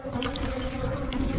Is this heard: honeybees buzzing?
yes